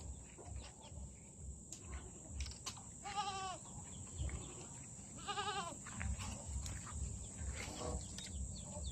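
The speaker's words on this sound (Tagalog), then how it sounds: "Kambing." Two distinct goat bleats, wavering and a little distant, rise over a constant hiss of crickets and insects in the evening air.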